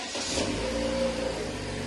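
A car drives past outside a home, its engine revving as it goes by, a steady mid-pitched roar that holds loud across the whole moment with no talk over it.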